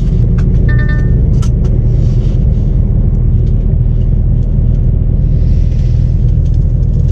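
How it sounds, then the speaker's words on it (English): A line of cars rolls off a ferry, a heavy continuous engine rumble filling the scene close by, loud and steady with faint clanks and brief higher tones on top. "A load of cars coming off one there now,"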